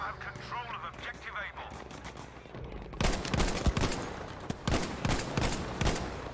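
Rapid automatic gunfire in Battlefield 5, dense close bursts of shots starting partway through and continuing to the end, with someone talking over the shooting.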